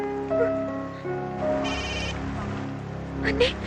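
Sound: telephone ringing

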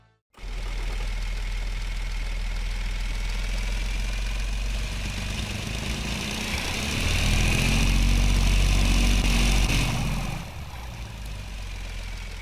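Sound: low revving car engine, video game

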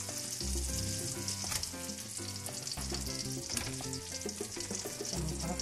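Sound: figs caramelizing in butter and sugar in a pan

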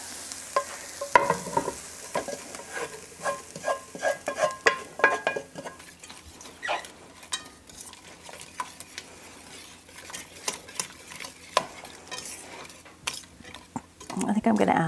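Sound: onions and garlic frying with white wine in pan

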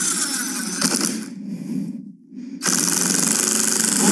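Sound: power drill drilling into a wood slice

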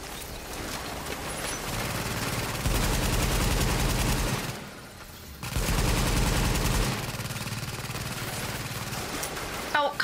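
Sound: turret gunfire in the video game The Division

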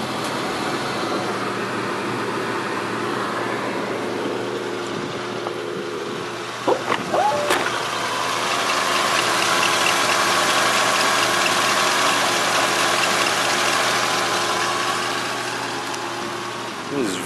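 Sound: 1972 Mercury Cougar XR7 351 engine starting and idling

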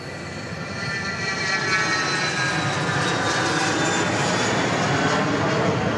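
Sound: airplanes taking off at Dallas Love Field

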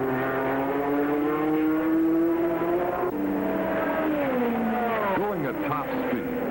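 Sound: Ford GT Mark II race car driving at speed, Le Mans

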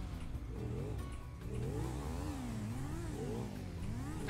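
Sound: jeep driving away

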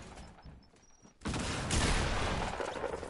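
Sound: gunfire from enemies shooting in the video game Fortnite

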